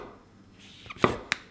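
A knife cuts a quarter pound of mushrooms on a cutting board, giving two or three sharp, close chops after a quiet stretch of soft handling.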